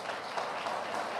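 Small, thin applause from a church congregation during a Sunday celebration service, a brief patter of scattered hand claps at steady, modest loudness with no voices over it.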